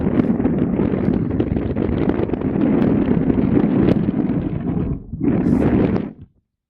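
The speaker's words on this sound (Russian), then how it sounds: "сейчас задул тот самый прогнозируемый северо-западный ветер. Пошла волна" A north-west wind blows hard over a pond at Yelovka, a loud continuous roar of gusts buffeting the microphone, with lapping waves, breaking off abruptly near the end.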